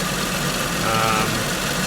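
A Toyota Soarer UZZ31 engine idles while warming up, giving a steady, close, even rumble with a faint mechanical vibration that holds throughout.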